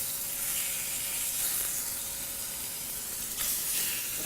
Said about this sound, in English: Just going to lay our lamb chops right in there.